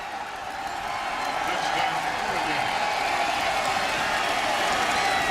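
American college football crowd cheering a touchdown as Oregon scores at Purdue in 2008: a steady, dense roar of voices and clapping from a large stadium, sustained and even throughout with commentary voices over it.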